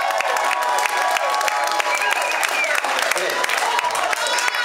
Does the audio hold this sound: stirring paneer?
no